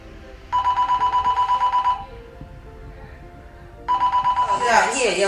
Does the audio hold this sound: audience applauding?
no